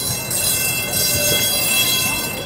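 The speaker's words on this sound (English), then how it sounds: "This is the historic number 28 tram." Lisbon's historic number 28 tram runs on a busy street, giving a steady rumbling rail noise with faint bell or horn tones throughout, fairly near and unbroken.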